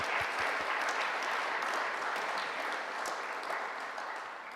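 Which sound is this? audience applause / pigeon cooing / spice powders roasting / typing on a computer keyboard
audience applause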